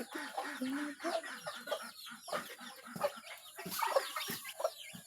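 Poultry cluck and squawk in a quick irregular series of close calls around a farmyard where eggs are gathered in the morning, moderately loud with no talking.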